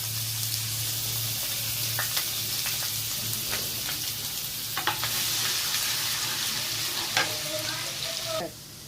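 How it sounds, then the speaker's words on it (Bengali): Food sizzles steadily in hot oil, with occasional clinks and scrapes of stirring, ending in a sudden drop in the sizzle. "এইবার এইগুলো তেলে দিয়ে দেবো।"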